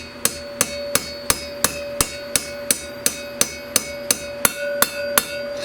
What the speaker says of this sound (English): You take your hammer, you just gently tap the top of it.